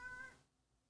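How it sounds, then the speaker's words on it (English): Pet cat giving a single short meow indoors, faint and close, fading quickly into quiet. "It's my kitty cat. He's objecting, I think."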